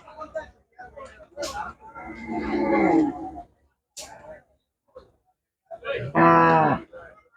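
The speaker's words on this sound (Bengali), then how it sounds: "আরও আমরা একটা গরু দেখতে পারলাম বড় একটা গরু" A large cow at Paraichak bazaar on Fenchuganj Road, Sylhet, gives two loud, drawn-out moos close by, with a market's talk and clatter between them.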